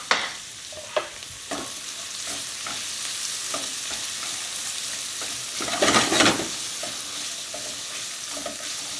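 Metal spatula scraping and stirring onions sizzling in a hot pan for yakisoba, with a steady frying hiss broken by scattered scrapes and a louder scraping burst near the middle.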